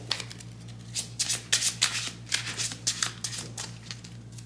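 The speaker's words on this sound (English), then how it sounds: "The rest of it I will shuffle." Playing cards from a Marvel Champions deck are shuffled up close, a run of quick, crisp riffling bursts that ripple on and off for several seconds with no talking.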